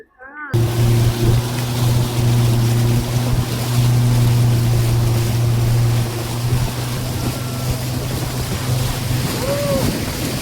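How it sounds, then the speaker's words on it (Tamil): Speedboat motor running on a lake near Ooty with about five people aboard, a loud, steady droning hum that holds throughout under wind buffeting and splashing water. "நான் வந்து ஸ்பீட் போட்டில் தான் போக போகிறேன்."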